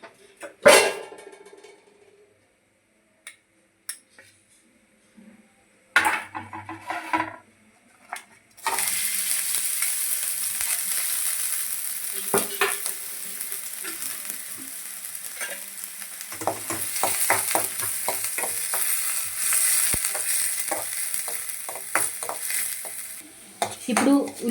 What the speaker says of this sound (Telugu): ఇప్పుడు ప్యాన్ పెట్టుకొని కొద్దిగా నూనె వేసుకొని ఉల్లిపాయలు గోలించుకుందాం.